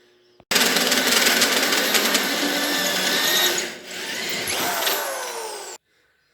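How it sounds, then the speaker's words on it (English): A power drill drilling a hole whirs steadily and loudly for about five seconds, dipping briefly near the end before stopping abruptly, with no talking. "I gotta mark for the hole here and drill it out"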